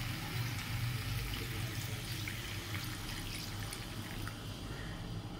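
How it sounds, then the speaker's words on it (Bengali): Water pours into egg curry in a pan, a soft continuous splashing and bubbling stream that stays fairly even throughout, with no talk heard. "আর একটু জল দেব, আর একটু জল দিয়ে দেব।"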